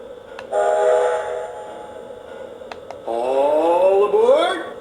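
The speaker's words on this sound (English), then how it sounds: "1 minute warning whistle please" The steam whistle of a Lionel O gauge Strasburg Railroad 90 model train sounds in two blasts, a steady wailing tone followed by a longer one that bends upward in pitch, with faint background noise.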